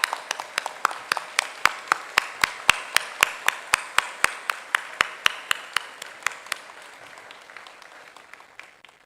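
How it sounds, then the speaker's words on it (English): Audience applause at the Amritapuri campus Graduation Day 2025 ceremony for the new graduates: a near, evenly spaced run of sharp claps over a broad crowd wash, steady for several seconds and then thinning and fading out. "let us all rise and give a loud round of applause to Amrita"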